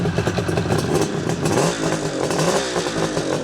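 A 1975 Suzuki GT550 two-stroke motorcycle engine with expansion chambers revs loudly and raspily up close, the burble rising and falling in quick blips with no voices.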